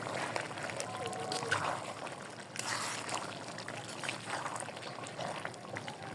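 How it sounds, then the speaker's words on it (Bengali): Duck curry being stirred in an open pot during slow braising: soft wet scraping and sloshing of thick gravy, fairly close and steady, with a faint voice now and then. "ঢাকনাটা খুলে একটু আমি লেড়ে দিব।"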